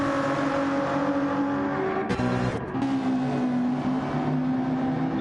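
A GT-class race car engine roars loudly and steadily in a racing video game at Watkins Glen, its tone holding then briefly dipping before resuming, with a distant commentator's voice faintly underneath.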